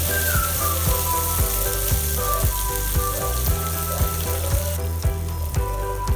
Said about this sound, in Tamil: ஒரு தக்காளி, 2-3 பூண்டு பல்லு, அப்புறம் 2 இன்ச் இஞ்சி சேர்த்துட்டு அதையும் நல்லா வதக்கிக்கலாம்